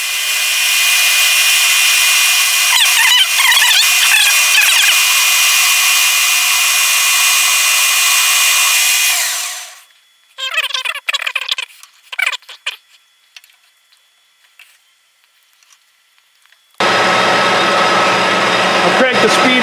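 A Clausing 6900 series lathe spinning at 1145 RPM while cutting a cross slide leadscrew with a WNMG 431 tool, a loud steady machining whine that cuts off, followed by clattering and another loud burst.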